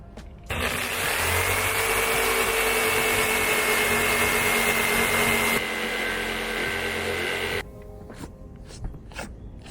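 A power saw cutting freehand through a panel clamped on a workbench, a loud, steady whine running for about seven seconds, easing slightly near the end before stopping, followed by a few faint knocks and clatters.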